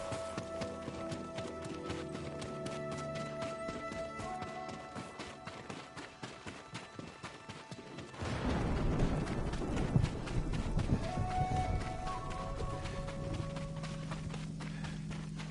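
Horse hooves clip-clop at a walking pace in the samurai video game Ghost of Tsushima. The steps are fairly close and rhythmic, then a louder rush of movement and ambient noise sets in partway through.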